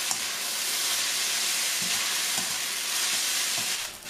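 Rice noodles with eggs and Chinese cabbage stir-frying in a pan, seasoned with salt, pepper and light and dark soy sauce, giving a loud steady sizzle and hiss close up, with a few soft stirring knocks.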